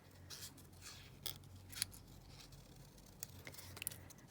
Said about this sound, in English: So we cut that butterfly out.